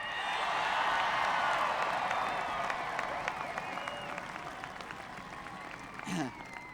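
Large crowd applauding and cheering at a 1996 presidential campaign rally in Portland, a dense, steady roar of clapping that fades gradually, with a voice over the top.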